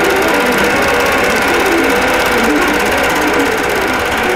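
A longarm quilting machine stitches a wholecloth quilt design, a loud, steady mechanical whir with a dense rapid needle patter running continuously without pause.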